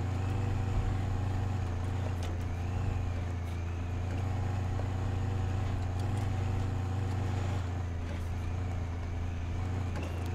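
R&R Customs 3500 truck in SnowRunner grinding over an obstacle on Shiner Mountain, a steady loud low engine drone with faint clunks throughout, no talking.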